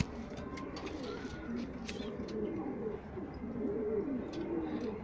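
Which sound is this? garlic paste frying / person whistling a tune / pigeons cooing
pigeons cooing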